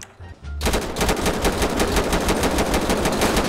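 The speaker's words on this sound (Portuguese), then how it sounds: "pode fazer um teste de tiro no vidro?" Rapid burst of gunshots fired at a car's front windshield in GTA 5 roleplay, loud and continuous after a brief quieter start, a steady rattling stream of shots with no talking.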